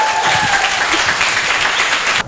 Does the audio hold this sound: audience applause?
yes